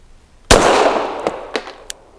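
A Girsan MC14 .380 pistol fires Winchester Silver Tip ammunition: one loud, close report with a long ringing decay, followed by a few fainter sharp cracks spaced apart, likely other guns nearby.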